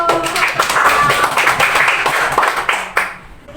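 An audience in a school classroom claps hands, dense and steady for about three seconds before thinning out, with some voices mixed in.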